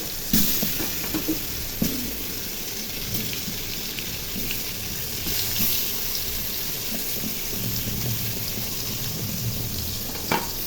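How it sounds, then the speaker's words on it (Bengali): Sweet pumpkin slices fry in hot oil with a steady crackling sizzle, punctuated by a few sharper pops and spits throughout, no voices over it. "তেল গরম হয়ে গেছে, এখন মিষ্টি কুমড়াগুলো ভেজে নিব।"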